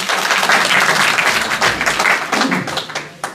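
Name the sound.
audience applause at a book inauguration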